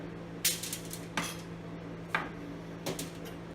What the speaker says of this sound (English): I'm just going to cut the ends off and then add them to my sheet pan